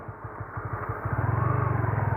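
A manual-clutch motorcycle being ridden downhill, its engine pulsing steadily in first gear and then shifting up to second, the putter growing louder and quicker after the change.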